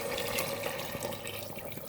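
Water pours steadily into a pot of sautéed potato and pea curry, a continuous splashing gush that lasts the whole short moment.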